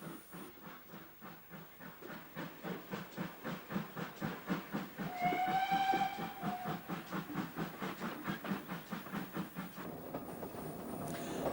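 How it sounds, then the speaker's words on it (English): A 1950s steam locomotive on a branch line chuffs in a steady, accelerating rhythm as it pulls away up a grade, with a brief whistle midway and rolling wheels beneath. "the train pulls away up the grade towards Yatton"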